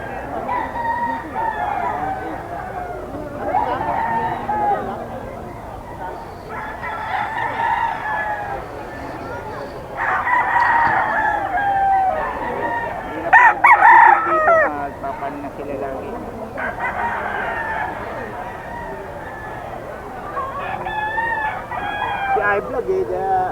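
Roosters crow repeatedly at a Bocaue pet market, several birds calling one after another from nearby with clucking between crows, while people talk over the busy market noise.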